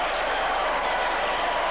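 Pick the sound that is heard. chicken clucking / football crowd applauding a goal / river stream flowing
football crowd applauding a goal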